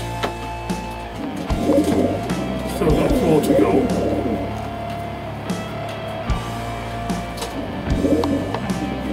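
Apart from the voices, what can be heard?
red pigeons cooing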